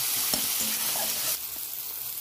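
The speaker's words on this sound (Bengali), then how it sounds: "ভালো করে একটু নেড়ে হালকা করে একটু ভেজে নেবো" Spices with salt sizzle gently in a pan while being stirred, a soft continuous fry with a few light scrapes that drops slightly in loudness partway through.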